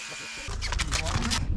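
Electric clippers shear a sheep's thick fleece on a farm on shearing day, starting partway through as a steady close buzz that wavers in pitch as the blades push through the wool.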